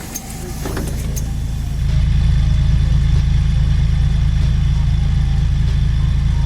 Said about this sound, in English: But just hear that engine.